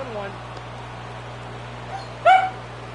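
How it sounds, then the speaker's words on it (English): A pet dog gives one short, sharp bark near the end, fairly close, over a quiet steady hum from a baseball broadcast in the background. "My dog won't shut up."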